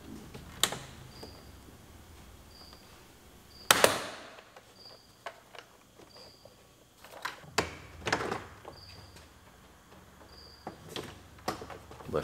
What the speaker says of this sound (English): And we'll just pop the door panel off.